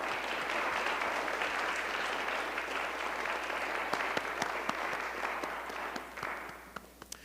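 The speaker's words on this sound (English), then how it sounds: "so can we give them a round of applause?" An audience applauds after a co-sponsor is thanked at an MLK speaker event in Pruis Hall: steady, full-room clapping that holds for several seconds, then thins out with a few last isolated claps.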